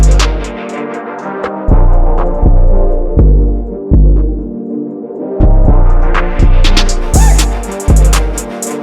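Synth bass and beat from an FL Studio trap production with the Fruity Love filter cutoff swept on the beat, loud rhythmic pulses opening and closing in brightness, with pauses between bursts and no talking.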